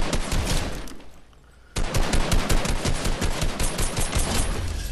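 Rapid gunfire in a video game rattles out in dense bursts, briefly drops away, then resumes as sustained automatic fire, loud and close with no voices.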